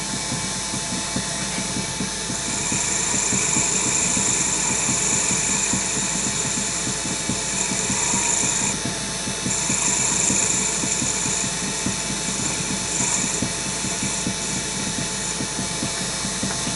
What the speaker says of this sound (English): Just going to sand it.